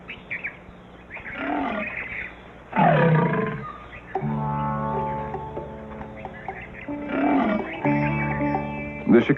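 Asiatic lions in the wild giving a series of deep, close roars and grunts, with steady bird calls chirping in the background between them.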